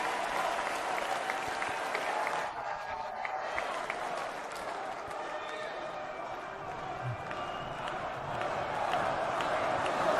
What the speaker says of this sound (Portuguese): A plateia não deixa o cara falar, velho.